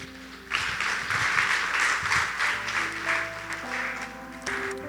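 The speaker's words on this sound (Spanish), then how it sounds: "Dale un fuerte aplauso al Señor." Congregation applauding the Lord at an evangelical church service, a sustained wash of clapping lasting several seconds with music and organ-like tones held underneath, fairly steady and moderately loud.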